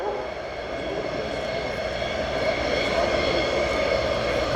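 Pilatus PC-9M turboprop trainer of the Slovenian Armed Forces performing an air display at RIAT, its engine a steady, fairly distant drone that swells slightly as the aircraft climbs vertically into a tail slide.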